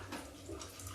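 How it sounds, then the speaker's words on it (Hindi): Hot water pours into a kadhai, a brief, faint, steady splashing stream heard alone. "थोड़ा गर्म पानी हम इस कढ़ाई में डाल देते हैं"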